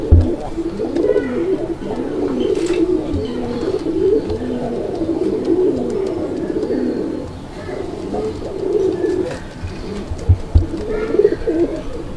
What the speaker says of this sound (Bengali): এটা ডাউকা কবুতর